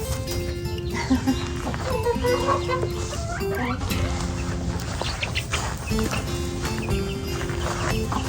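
Silkie chickens cluck and chatter close by, a steady busy flock with short calls throughout, while a person's voice briefly speaks over them.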